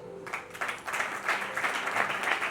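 Applause from a church gathering as a bishop is introduced, a rhythmic wash of clapping building after a brief pause and continuing fairly quietly at a distance.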